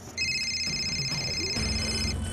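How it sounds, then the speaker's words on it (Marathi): A mobile phone ringing indoors in a Marathi TV drama scene, a steady electronic ringtone with sustained high tones over low room noise and a faint background score. "तुझा फोन"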